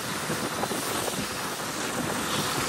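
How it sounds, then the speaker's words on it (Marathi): Strong wind gusting across hills near Lonavla in rainy monsoon weather, a loud, steady roar buffeting the microphone throughout with no voices. "वारा बी भरपूर सुटलाय."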